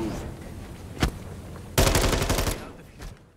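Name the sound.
gunfire from video game Modern Warfare III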